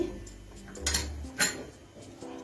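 A spoon stirs curdling milk in a pan over low heat, making milk cake; soft scraping and a couple of metallic clinks against the pan, fairly close and quiet.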